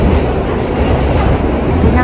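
Subway train in motion while the rider hauls a load of luggage, a steady loud rumble and rush filling the whole stretch without a break.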